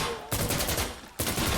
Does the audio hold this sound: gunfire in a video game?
yes